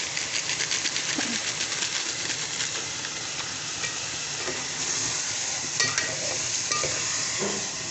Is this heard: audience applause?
no